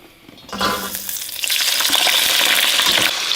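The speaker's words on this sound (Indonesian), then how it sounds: "Yang kedua kita goreng bawang merah ya teman-teman, tapi aku kasih bawang putih 2 siung ya." Oil sizzles and crackles steadily as shallots and garlic are dropped into a hot pan, the frying growing louder and denser after the first half-second.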